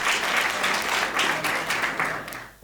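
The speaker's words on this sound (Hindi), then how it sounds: "एक बार सदन ताली बजा के मुझे आशीर्वाद दें।" An audience at a Hindi comedy poetry gathering claps in a dense, even burst that rolls along for a couple of seconds before tapering off at the end.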